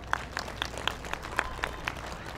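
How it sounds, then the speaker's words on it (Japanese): An outdoor audience at a Japanese festival dance stage in a park claps for a yosakoi-style dance team, giving a brief, thin round of applause with a few distinct claps standing out at a moderate distance. "もう一度大きな拍手をお願いします。"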